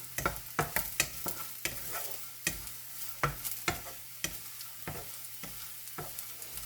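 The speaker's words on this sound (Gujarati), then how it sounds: "અને લસણ, કારેલા, મરચાં બધું આપણે થોડુંક તેલ લઈને શેકવાના છે." Chana dal, urad dal and peanuts are stirred and roasting in a little oil in a pan, with repeated sharp scraping strokes of a spoon over a faint sizzle and no talk.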